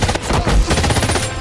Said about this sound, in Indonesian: Terlihat Smithy pun tertembak beberapa peluru di badannya.